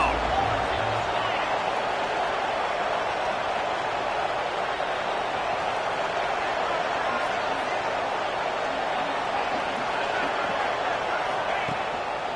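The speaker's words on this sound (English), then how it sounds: "The Red Raider crowd rising to the occasion to help its defense on 3rd down." A roaring Texas Tech Red Raider football stadium crowd at a Houston game on third down, a dense steady wall of noise that holds loud and unbroken throughout.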